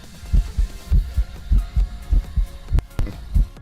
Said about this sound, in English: We got some heartbeat going on in here.